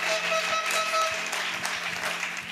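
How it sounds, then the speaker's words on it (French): Congregation at a Christian crusade service for salvation, healing and deliverance in Bafoussam, applauding together in a dense, continuous wash of clapping, fairly loud and with no clear speech. "Clap for Jesus Christ."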